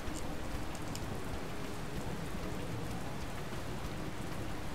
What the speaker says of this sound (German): das Schöne ist, dass man den eh schon hört, weil das Spiel ja auch Regengeräusche hat